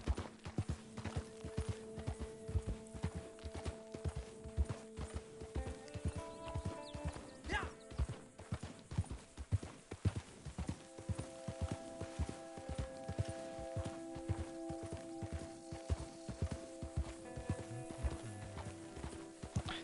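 Horse hooves clip-clop steadily in Red Dead Redemption 2, an even walking rhythm that runs for the whole stretch. A faint whinny and low game ambience sit underneath.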